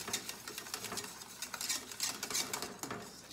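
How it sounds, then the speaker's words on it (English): A spoon stirs egg yolks into hot lemon meringue pie pudding mix in a pan, quick repeated scraping and clinking against the metal in an uneven rhythm, close and fairly soft, with no voices. "Now I'm going to stir this in here."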